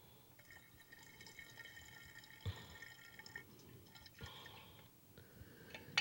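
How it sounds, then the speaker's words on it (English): Sulfite solution poured from a container into wine while home brewing, soft trickling and splashing of liquid with a few clinks of glass, faint and close. "carefully pour it into your wine."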